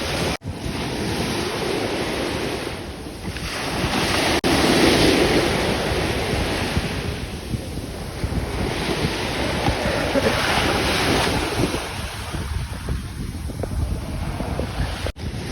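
Sea waves wash in at Shivrajpur beach, a continuous roaring surge that swells and recedes in slow pulses, heavily mixed with loud buffeting wind across the microphone and no speech.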